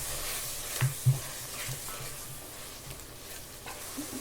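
Chopped coriander and mint stirred into a frying gravy for Dindigul Thalapakattu chicken biryani, giving a low steady sizzle with a couple of dull spoon thumps against the pan early on, no voices.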